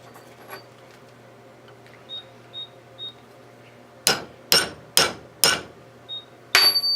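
Hammer taps on a bullet casing necklace part, a few light ticks followed by a run of five or six sharp, close metallic strikes at roughly half-second intervals, with no talking.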